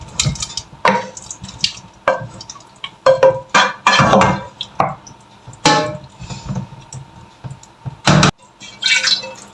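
Goulash being scooped and transferred into another pot, a series of wet scraping stirs and ladle clanks against metal, with sizzling and sloshing in uneven bursts, close and fairly loud.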